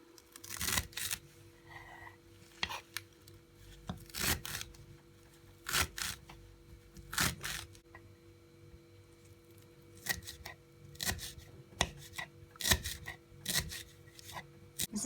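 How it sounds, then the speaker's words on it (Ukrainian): A knife finely chops wild salad greens and stems on a board, sharp crisp taps coming in irregular clusters, close and fairly quiet, with no voices. "все наріжу дрібненько"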